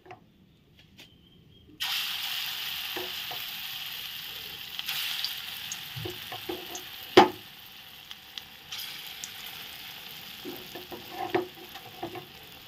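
Food frying in a pan after being turned over and cooked through, a steady soft sizzle throughout with occasional clinks and scrapes of stirring.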